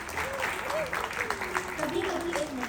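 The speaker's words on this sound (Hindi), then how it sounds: "आइए हम सभी जोरदार तालियों से इन महान परिवारों का स्वागत एवं सम्मान करें।" Audience applause welcoming organ donor families onto the stage at a PGI organ donation ceremony, steady clapping running throughout while a voice speaks over it.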